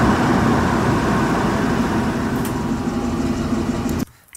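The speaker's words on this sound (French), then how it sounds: "On vient ensuite sélectionner le moment de l'arrêt du moteur." A car engine idles with a steady, close, low rumble for about four seconds, then shuts off abruptly, dropping to near silence for the final moments, with no voices present.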